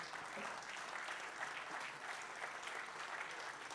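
An audience at an Italian rap event applauds, sustained and even clapping from a crowd that continues throughout at a moderate distance with no voices above it.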